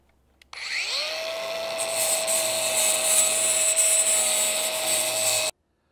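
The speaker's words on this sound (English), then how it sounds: "You can do that with like a 4-inch sanding disc or with a piece of sandpaper on a block" A power sander with a 4-inch sanding disc spins up and runs with a steady whine and broadband grinding for about five seconds while smoothing a cut bumper edge, then cuts off abruptly.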